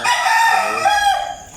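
A rooster crows once, a loud close cock-a-doodle-doo that rises and then trails off at the end, with no one talking.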